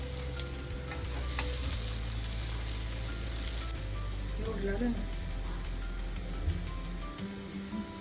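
Cooked, broken-up potato pieces tipped into a hot pan, frying with a steady sizzle and some stirring scrapes throughout, close and moderately loud, no talking.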